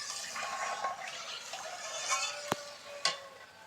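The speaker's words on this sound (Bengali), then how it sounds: "ভালো করে নাড়াচাড়া করে নেব।" Water with salt and turmeric is stirred in a pot while making a village-style chalta pickle, giving a soft swishing, watery churn with two sharp knocks of the spoon against the pot near the end.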